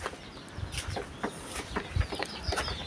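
Chickens cluck in short, scattered calls inside a chicken coop on a home vegetable garden, fairly faint against a soft background hiss, with several birds sounding at irregular moments and no talk.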